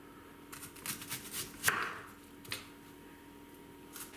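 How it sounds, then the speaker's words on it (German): A knife cuts onion into 5 mm rings on a board, giving a few crisp, close chops and crunches spread over several seconds, with no one talking. "unsere Zwiebel werden wir diesmal in Ringe schneiden"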